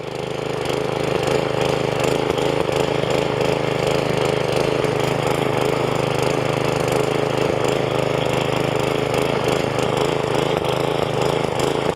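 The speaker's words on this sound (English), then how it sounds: "EuroSystems Z2 is powered by a 4-stroke Briggs & Stratton 125cc engine" EuroSystems Z2 mini tiller with a 4-stroke Briggs & Stratton 125cc engine tilling garden soil, a steady loud engine drone with churning, gritty texture running unbroken for the whole stretch, close by and with no talking.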